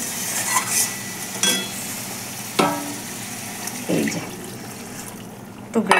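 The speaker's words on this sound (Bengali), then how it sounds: "এবার জল দিয়ে দেবো, জল বেশি দেবো না, অল্পই দেবো।" Water is poured into a simmering potato curry in a pot. A few splashing pours and scraping stir sounds come through, with utensil knocks against the pot and a faint hiss from the cooking.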